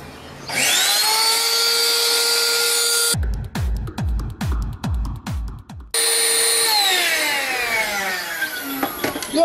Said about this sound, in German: Und jetzt habt ihr das Bötchen mittels der Pumpe einmal komplett aufgepumpt